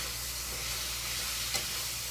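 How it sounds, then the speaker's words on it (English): Red potatoes sizzling in a hot pan for soup, a steady, loud, dense frying hiss throughout with one small clink partway through. "And as you can see, it is sizzling up."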